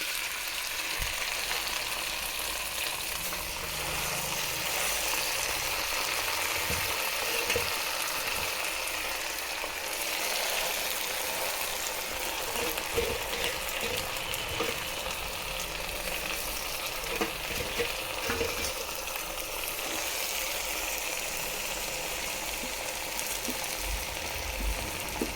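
Gongura (sorrel) leaves frying in oil in a pan, a steady broadband sizzle with soft crackles and occasional stirring clicks throughout, no voices.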